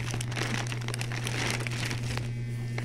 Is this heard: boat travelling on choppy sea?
no